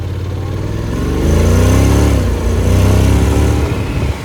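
A Honda X-ADV750 scooter accelerating hard in sport mode, its engine note rising and holding loud and close for several seconds, with no voices over it.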